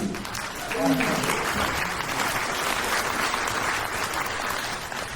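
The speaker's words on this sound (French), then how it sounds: "Merci de vos applaudissements" An audience applauds at a wind band gala concert of the Chauvigny orchestra, sustained dense clapping throughout, with a voice speaking briefly near the start.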